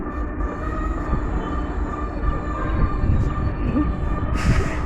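A train stands or rolls at a station with a loud, continuous rumble of rail cars and wheels, a brief hiss near the end, no voices in the clip.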